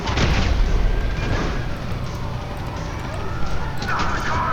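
Rumbling explosion in the GTA 5 video game, with a heavy low boom at the start and dense broadband game noise that stays loud throughout, likely with voices underneath.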